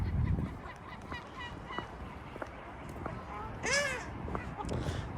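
A flock of waterfowl gathered in a Moscow park, honking and quacking nearby over a steady outdoor background, with a person talking throughout.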